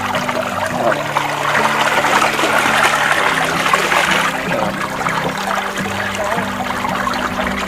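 Clear mountain stream water trickling and flowing steadily in Mae Chaem, Chiang Mai, a continuous close rushing wash with bubbling texture throughout, no talk.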